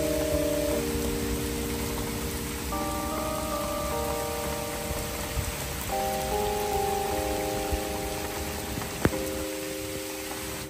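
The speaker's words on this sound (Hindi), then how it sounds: "लगता बारिश हो रही है" Steady broadband hiss of rain falling continuously, with faint sustained tones underneath and a brief sharp click near the end.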